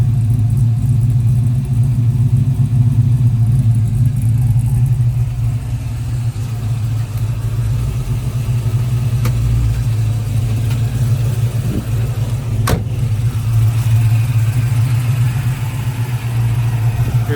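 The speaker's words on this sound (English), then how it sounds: "You hear a nice cam sound back here in the back." Close-up of a 1967 Camaro SS restomod with a built LS2 V8 idling from the rear, a steady loud lopey rumble with a choppy cam rhythm, one brief sharp click partway through.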